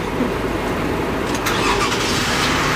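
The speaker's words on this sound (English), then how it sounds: "She's jumping the car for me." A car engine cranks and runs during a jump start, giving a steady, fairly loud mechanical rumble throughout at close range.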